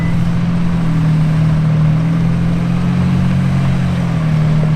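Steady low engine drone from an off-road vehicle crawling up a dirt trail, a constant close hum with little change in pitch or loudness throughout.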